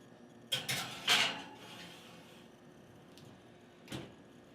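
A casserole dish slid into a home oven: a few close clatters and knocks of dish and oven rack in quick succession, then quiet, and one more soft thud a few seconds later.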